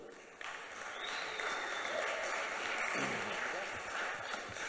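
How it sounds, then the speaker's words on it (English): Audience applause at a DeFi conference panel as speakers are called up: steady, moderately loud crowd clapping that holds at an even level throughout, with a faint voice or tone in the background. "let's give a round of applause"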